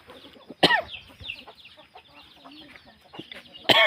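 Chickens cluck and chatter nearby in short bursts beside rural rice fields, with a few sharper squawks standing out against a quiet outdoor background.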